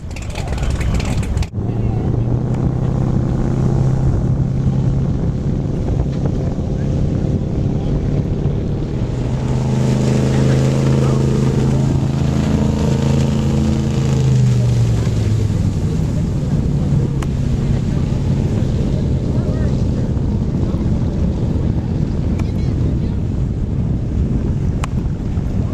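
Loud, continuous roar of a racing wooden step-hull speedboat's Liberty V12 engine mixed with heavy wind buffeting, with a whining engine pitch rising and falling as the boat passes, on Muskoka waters.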